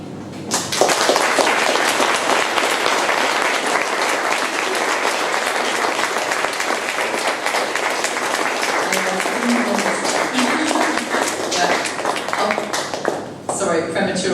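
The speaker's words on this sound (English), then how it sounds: "premature round of applause" Loud, sustained applause from a live audience at a talk fills the space for over ten seconds, dense steady clapping that tapers off near the end with a few murmuring voices underneath.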